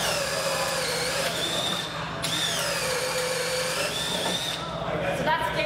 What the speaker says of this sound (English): So I'm going to show you just a 3/4 inch ship auger going into 2x6